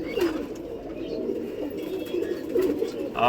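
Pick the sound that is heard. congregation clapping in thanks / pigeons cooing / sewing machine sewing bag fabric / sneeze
pigeons cooing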